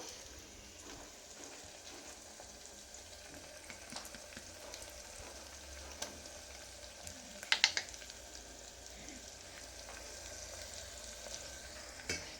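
Mutton is stirred with ginger and turmeric in a frying pan, producing a soft, continuous sizzle. Occasional spatula scrapes and taps are heard, with a small cluster of clinks midway, quiet and close.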